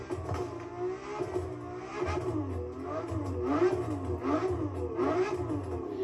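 A Ferrari GTO in the racing video game The Crew Motorfest revs in repeated rising and falling surges, a moderately quiet, steady engine note with no talking.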